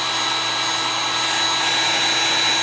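A heat tool blasting hot air to set chalk paste, a loud, steady, unbroken whooshing hum held at constant strength from start to finish, close by.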